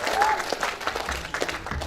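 A brief stretch of audience applause at a startup incubator event, moderately loud, dense clapping with a faint voice in the room.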